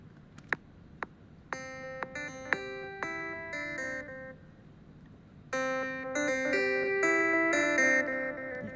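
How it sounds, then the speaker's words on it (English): Clavinet part in a reggae arrangement in GarageBand with a delay effect that increases over time: plucked chord stabs and short riffs, their echoes building and smearing into a denser wash in the second half. "you can hear the delay being increased."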